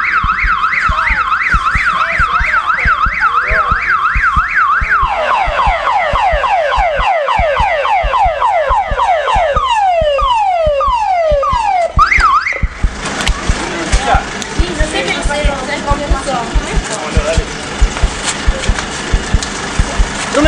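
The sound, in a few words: ambulance siren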